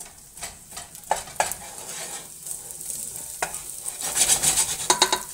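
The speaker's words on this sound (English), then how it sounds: "So we're going to get those onions going in there." Onions frying and being stirred in a pan, with a steady close sizzle and repeated scraping stir strokes that grow busier and louder toward the end.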